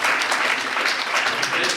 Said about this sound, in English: Let's give all the panelists a round of applause.